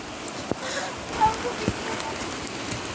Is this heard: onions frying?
no